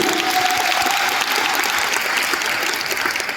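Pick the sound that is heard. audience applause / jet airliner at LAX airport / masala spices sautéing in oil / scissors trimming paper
audience applause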